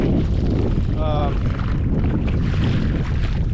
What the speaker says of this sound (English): right now it's getting windy